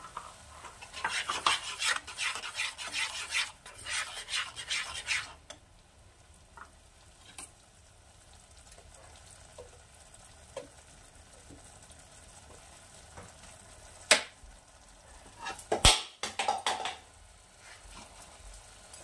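Cumin paste being added to a pan on a low flame and stirred and fried for a Bengali pabda fish curry, with bursts of spatula scraping and sizzling, then quieter stretches with a few sharp clinks and scrapes near the end.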